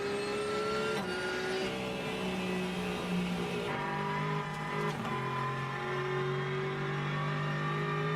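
A GT3 race car engine at Road America drones loudly and continuously, its pitch sliding and shifting through gear changes with a few sharp transient cracks, the sound unbroken over the whole stretch.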